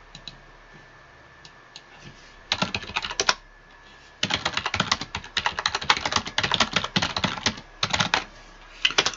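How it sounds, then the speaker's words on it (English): Computer keyboard typing in bursts of rapid clicky keystrokes, close and fairly loud, with brief pauses between runs during a game streaming session. "sorry if you've got to listen to click-clackety of my keyboard"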